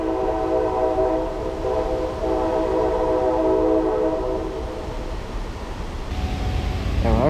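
A train passes with a steady loud rumble and a sustained horn-like tone, then a short rising pitch near the end, with no talk.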